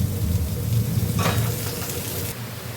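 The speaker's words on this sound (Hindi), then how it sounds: "देखिए मैं दाल में इसे डाल दूंगी इस तड़के को।" Hot tadka tempering poured into a pot of arhar and moong dal cooked with tomato, a steady sizzle and bubbling with a brief sharp hiss burst, close and alone.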